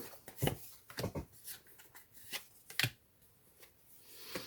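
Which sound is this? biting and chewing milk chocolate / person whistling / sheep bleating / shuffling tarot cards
shuffling tarot cards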